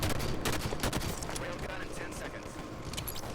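Rapid gunshots and a grenade blast in a competitive Halo-style video game match, a dense crackle of firing under an excited commentator's continuous talk.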